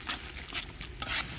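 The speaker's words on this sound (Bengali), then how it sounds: "মশলাটা কষায় নিব।" Ground spices including chili powder are stirred and fried in a pan with a little water, close scraping strokes over a soft sizzle, with two louder swishes near the end.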